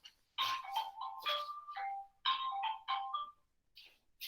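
A mobile phone rings in a meeting or conference setting, a melodic ringtone of repeated bright tone bursts, fairly near and clear with no talk over it.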